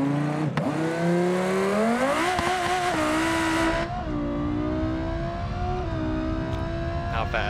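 A car engine in BeamNG.drive with its rev limiter raised, revving hard and high, rising and falling in pitch through several surges, loud and close, with voices talking over it.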